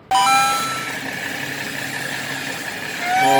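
A Mercedes-Benz engine runs with the car raised on a lift, giving a steady close drone from the underbody with a thin, high whistling whine riding on top and no talk.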